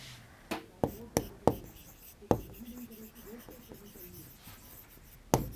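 A pen or marker writes out numbers while a class 8 maths square-root problem is worked: several sharp taps, then steady scratchy strokes, close and fairly clear, with faint room sound behind.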